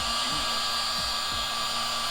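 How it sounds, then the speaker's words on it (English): A heat gun blows steadily and alone, softening the glue behind a badge on a Mercedes CLA45 AMG, with a constant airy roar and a few faint low thumps. "so next thing to do is going to be to heat it up like John is doing here."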